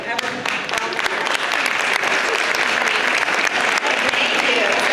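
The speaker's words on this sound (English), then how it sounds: "I want you to stand up so we can applaud you" A drama showcase audience claps loudly and continuously for volunteers, a dense, sustained wave of applause from a large indoor crowd.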